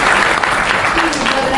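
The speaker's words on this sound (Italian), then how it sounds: "Facciamo un applauso." Audience applause at the Premio Tullio Guidotti award ceremony in Piancastagnaio, a steady, dense burst of clapping from a crowd, loud and close throughout the short moment.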